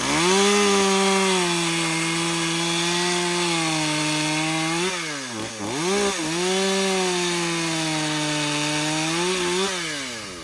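Husqvarna-style power chainsaw with a dull chain cutting through wood, engine screaming at steady high revs under load, dipping briefly midway as the cut shifts, then climbing back to a sustained loud whine.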